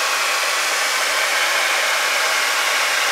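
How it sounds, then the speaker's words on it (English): A hair dryer blows with a steady, loud, unbroken whoosh from start to finish, close up. "Just dip my hairdryer right into the..."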